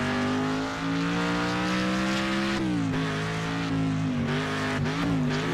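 A car racing in Next Car Game gives a loud, steady engine drone that shifts pitch sharply several times as it accelerates and slides, with tire noise mixed in.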